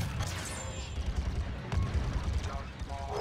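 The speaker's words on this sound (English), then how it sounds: "Suppressing fire." Blaster and weapon fire in the Star Wars Battlefront II (2017) video game, with heavy, continuous battle noise: scattered shots and low rumbling blasts under a busy mix, with voices talking over it.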